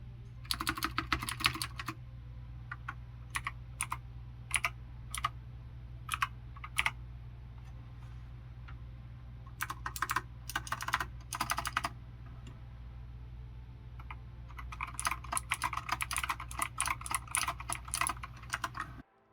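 Typing on a Razer BlackWidow V3 Mini Hyperspeed mechanical keyboard with green clicky switches, a close, crisp patter of keystrokes in bursts and short runs separated by pauses, over a faint low hum.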